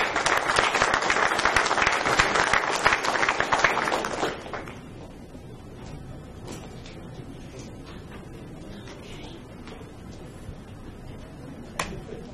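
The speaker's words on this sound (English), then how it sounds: "give yourselves a round of applause" A school board meeting audience gives a loud round of applause, dense clapping for about four seconds that stops abruptly, followed by a quiet room with scattered faint taps and one sharp knock near the end.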